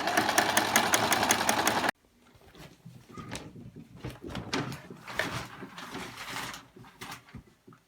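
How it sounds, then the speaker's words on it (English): Sewing machine running in short and longer bursts while stitching together the sides of a shirt being turned into a bodysuit, fairly close and moderately loud, after a brief loud stretch of other sound at the start. "I'm gonna stitch the sides together"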